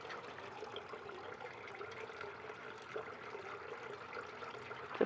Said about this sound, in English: The sound you hear is my fountain that I have right down here to my left.